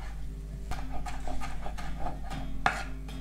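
Knife dicing vegetables for tomato relish on a cutting board, a run of close, fairly even chopping taps with one sharper knock near the end.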